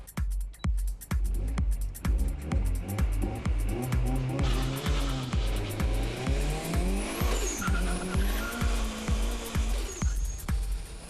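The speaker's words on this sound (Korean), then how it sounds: "역시 터보 차저가 장착되어 있는 튜닝카를 직접 시승해봤다." A turbocharged tuned car accelerates hard on a test drive. Its engine note climbs and falls in pitch over a rapid, steady pulsing, with occasional high squeals riding on top.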